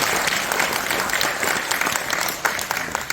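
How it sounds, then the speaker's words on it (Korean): Dense, loud audience applause welcoming guests at a formal Korean gathering, continuous crowd clapping filling the whole stretch with no talking over it. "박수로 맞이해주셨습니다."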